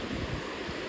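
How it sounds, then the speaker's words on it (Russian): North wind blowing steadily at a seaside beach in Buzovna, Azerbaijan, a dense broadband rush mixed with soft surf wash and low microphone buffeting, continuous and fairly quiet with no voices. "Дует северный ветер"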